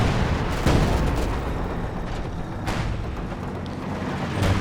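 Artillery barrage and return fire from a Pak-43 anti-tank gun in the strategy video game Company of Heroes 2, with continuous loud rumbling battle noise broken by a few sharp booming blasts.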